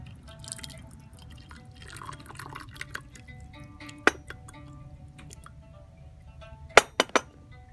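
Water is rinsed through a clay teapot and poured onto a tea tray during a gongfu tea ceremony: a soft steady trickle and splashing, punctuated by several bright clinks of ceramic near the end.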